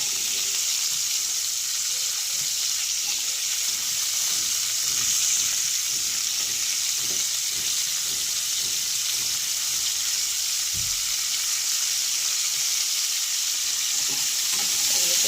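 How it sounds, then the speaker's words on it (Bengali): Carrots, radish and other vegetables fried and stirred in a pan for a spinach and shrimp dish, with a steady loud sizzle and soft scraping stirs running throughout, no voices. "ভালো করে একটু নাড়াচাড়া দিয়ে ভেজে নেব"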